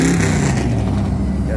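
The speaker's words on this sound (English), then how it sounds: "Got a rev competition going on up here." Car engines revving at a rev competition during an outdoor car show in Louisville, Kentucky, a dense continuous low roar of motors, loud and close, with crowd noise and some voices mixed in.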